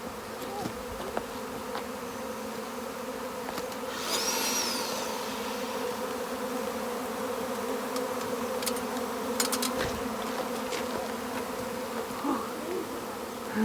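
A dense, continuous drone of a honey bee swarm buzzing nearby, with individual bees whining past now and then over the steady hum.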